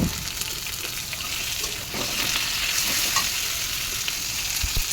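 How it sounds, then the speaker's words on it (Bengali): Chopped tomato going into onions already frying in oil in a pan, a continuous sizzle with scattered crackles and a brief stirring scrape, steady and close. "পেঁয়াজগুলো প্রায় ভাজা ভাজা হয়ে এসেছে, এবার আমি টমেটোটা দিয়ে দেব।"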